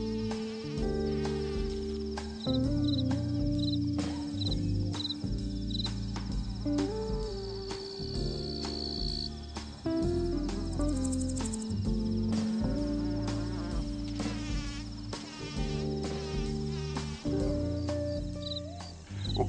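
Grasshoppers and crickets chirp steadily through a summer garden, a dense, continuous insect chorus with buzzing tones layered over other steady sounds for the full length.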